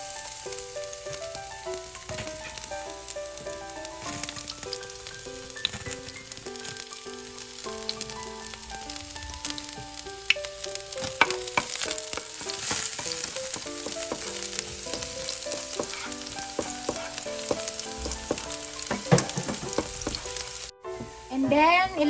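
Garlic dropped into hot oil in a preheated pan, a constant close frying hiss running throughout, with tonal music playing underneath and a few handling knocks toward the end.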